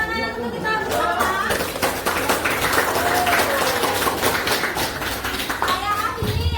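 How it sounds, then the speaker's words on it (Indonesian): A classroom group of children and adults claps together, a steady burst of applause mixed with young voices and chatter, close and lively throughout. "Sebelumnya kita tepuk tangan untuk kita bersama."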